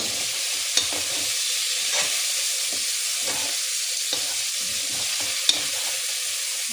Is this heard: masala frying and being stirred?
yes